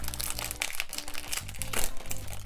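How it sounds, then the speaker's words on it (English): Crinkly plastic wrapping of a blind bag toy package being torn open and crumpled by hand, a continuous close crackling with bursts of rustle, over faint background music. "let's unwrap this"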